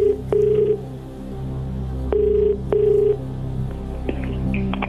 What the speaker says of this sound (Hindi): एसएम पटेल को फोन लगाया जाए, देखें इनके पास सही उत्तर है या नहीं।